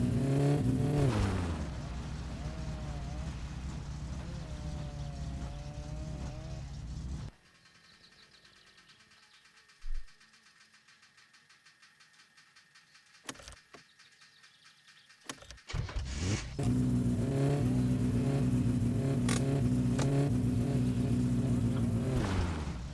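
Car engine in My Summer Car droning and revving unevenly, cutting out abruptly to near silence with a few isolated thumps before roaring back to life, alone without talk.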